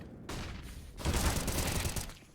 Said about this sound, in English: that is an M249